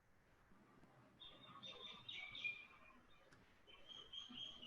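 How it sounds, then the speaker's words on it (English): Faint birds sing outdoors, high thin chirps and trills in short phrases over a quiet background hiss, distant and soft. "I can hear some birds sing"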